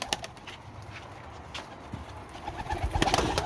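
Soft cooing of Mardin tumbler pigeons in a coop at close range over faint background noise, a few low coos growing busier toward the end.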